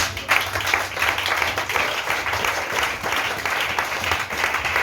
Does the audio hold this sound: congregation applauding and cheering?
yes